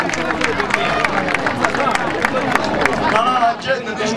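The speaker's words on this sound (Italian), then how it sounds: "fatevi un applauso da soli" An outdoor crowd at a village sagra claps and cheers, sharp scattered claps mixed with lively chatter and voices throughout, a busy festive din.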